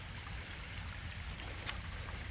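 Water pouring into a 12-inch culvert pipe gives a steady, faint rushing wash with low rumble, continuous and even throughout with no voices.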